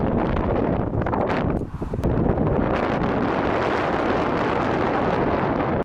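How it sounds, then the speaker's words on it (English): Strong wind blows beside a row of roadside wind turbines in northern Spain, making a loud, constant roar that buffets the microphone, with one brief dip. "I got out and I almost got blown away by the wind"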